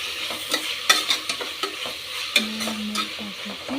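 Tomato with turmeric and a tablespoon of salt being stirred in a pan for chicken curry, a bright sizzle with quick spoon scrapes and clinks in an uneven rhythm, close and clear.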